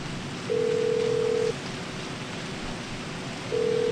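Phone call tones from the video game GTA 5: two steady, loud ringback beeps about a second long, spaced three seconds apart over a soft hiss, with no talking.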